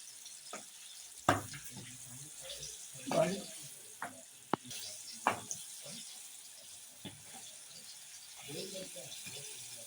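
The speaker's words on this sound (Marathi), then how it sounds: "छान हलवून हे चांगले फ्राय करून घ्यायचे" Liver pieces for Malvani-style kaleja pakoda are stir-fried in a pan, with soft sizzling under scattered sharp clacks and scrapes of a spoon against metal, plus occasional low murmurs in the background.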